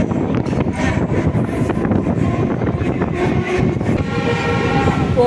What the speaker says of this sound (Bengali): এই সময় আমাদের ট্রেন ছেড়ে যাচ্ছে পার্ক সার্কাস স্টেশন